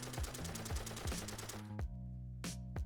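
M60 machine gun in Fallout 4 fired in a rapid steady burst of punchy shots, then the burst stops, followed by two single heavy shots with ringing tails.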